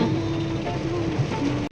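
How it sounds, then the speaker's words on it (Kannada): Heavy rain falls in a steady, even hiss throughout, close and fairly loud, with a faint hum running underneath and no talk. "ನೋಡಿ, ಮಳೆ ಮಾತ್ರ ಹೆವಿ ಬರ್ತೈತೆ."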